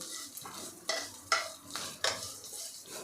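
Grated raw potato sautéed in a pan with white sesame seeds and chili flakes, a soft frying hiss broken by three or four distinct scrapes of a spoon stirring, close up with no voices.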